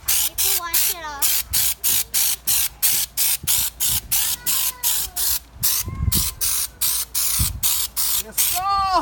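Raptor bedliner coating sprayed onto a truck in loud, hissing bursts about half a second long, repeated rhythmically with brief gaps, very close to the microphone.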